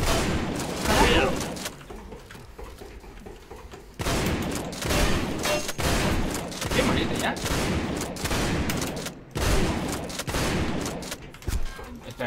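Rapid gunfire bursts in the Line of Sight shooter game, loud clustered volleys of shots separated by short pauses, with a voice mixed into the fighting.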